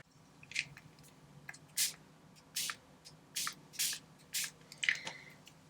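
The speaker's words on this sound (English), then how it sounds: "I've got some gold spray." Gold spray paint hisses from an aerosol can in about seven short bursts, separated by brief pauses, close and fairly crisp against a quiet background.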